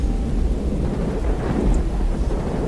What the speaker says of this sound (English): why does the storm sound so much more, like, powerful?